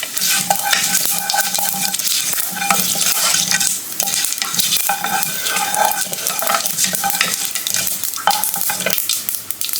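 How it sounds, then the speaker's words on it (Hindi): Kadhi cooks in a pot while being stirred, with a continuous sizzle and repeated scraping strokes of a spoon against the pot, close and loud, without talk. "मैं थोड़ी सी कढ़ी चढ़ा रही"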